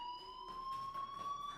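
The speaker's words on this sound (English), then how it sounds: "Hey, do you hear that fire alarm?" Steady electronic fire alarm tone sounding in the video game Life Is Strange, a sustained high pitched wail holding evenly for the whole moment at moderate, slightly distant level with some room noise behind it.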